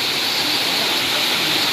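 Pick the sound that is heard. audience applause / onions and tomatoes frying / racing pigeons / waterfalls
waterfalls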